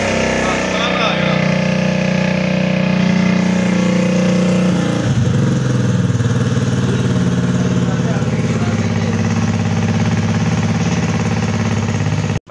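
A motorcycle engine idling steadily and loudly up close, its low hum running unbroken for about twelve seconds before stopping abruptly.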